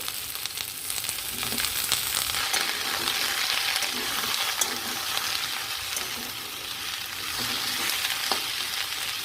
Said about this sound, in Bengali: এবার সবজিগুলোকে আমি একটু নাড়তে থাকবো তো এবার আমি দিয়ে দেব টুকরো করে কাটা কুমড়োগুলো